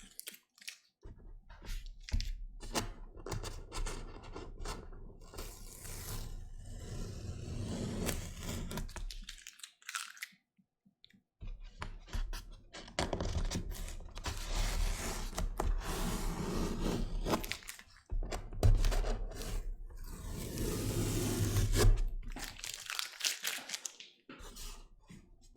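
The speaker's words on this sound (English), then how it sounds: "So let me take off the tape slowly," Masking tape is peeled slowly off watercolor paper in several long, crackly tearing strokes, close and fairly quiet, separated by short pauses of silence.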